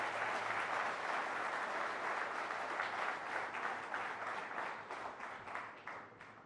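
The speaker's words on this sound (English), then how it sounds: "Please give him a round of applause." Sustained applause from a large summit audience for Prime Minister Modi, a dense steady wash of clapping that holds loud throughout before gradually thinning toward the end.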